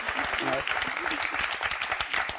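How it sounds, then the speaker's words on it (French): Applause fills a hall for two contestants at a French game show, a dense steady clatter with a voice speaking over it near the start. "On va applaudir très très fort."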